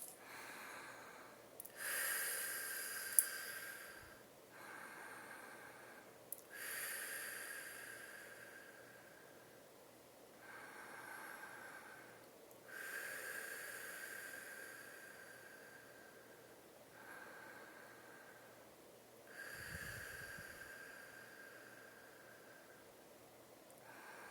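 Slow, deep breaths drawn in and let out, several long airy cycles several seconds each, soft and close in a quiet room, no talking.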